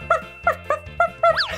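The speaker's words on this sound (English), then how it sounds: "this one has a little puppy dog." Several short, yappy barks from a small puppy dog, five quick bursts in a loose rhythm, the last one rising into a squeaky whine; close and fairly loud with no talking over it.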